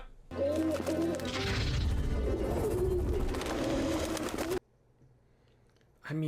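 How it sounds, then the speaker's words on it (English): Pigeons coo in New York City, loud and close, with layered throaty calls over a dense background that cuts off abruptly, followed by a short, sharp noise at the very end. "going off of there were pigeons in New York City is not exactly the most helpful."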